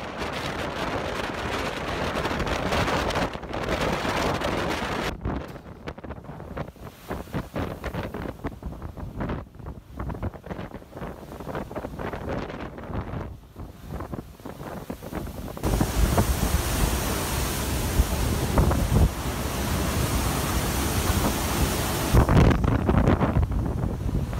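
Storm wind and surf on a coast: a continuous loud roar of waves and gusts buffeting the microphone, rising to a heavier, steady rush in the second half.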